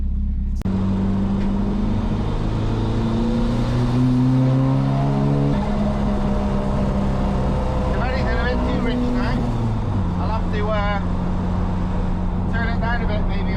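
A Volvo car engine runs steadily on a test drive after a MAF sensor fix, its drone rising and falling with gear changes as a voice talks over it throughout.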